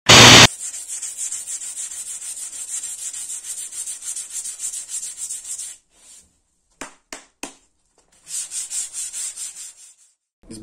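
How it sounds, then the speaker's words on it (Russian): A car hood on a Sandero 2 Stepway is sanded by hand with 320 grit sandpaper during dent repair, a close, loud, rhythmic rasping that runs steadily, pauses, then resumes in short strokes. "Сбиваем риску 320 шкуркой."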